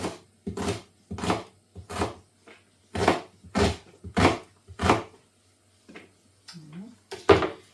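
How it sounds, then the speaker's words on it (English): Repeated knife chops as an onion is cut into small pieces on a board, about a dozen sharp strikes in an uneven rhythm, close by, with a short pause near the end. "Just cut this onion up into"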